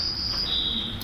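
Played-back recording of a songbird's buzzy song: thin, high, sustained buzzing notes that shift pitch partway, fairly faint and heard alone.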